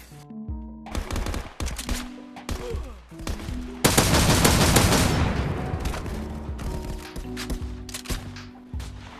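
A close quarters weapon firing in Contractors VR after the MW2 update: several short bursts, then a loud sustained automatic volley with mechanical clicks and handling noise around it.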